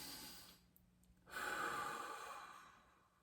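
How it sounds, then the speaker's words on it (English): One deep breath drawn in slowly and let out with a long, airy sigh, heard close and alone. "Take a big breath."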